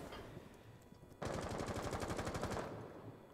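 Automatic gunfire in Rainbow Six Siege, a rapid burst of about fifteen evenly spaced shots lasting over a second. The shots are fairly faint and sound distant against quiet game ambience.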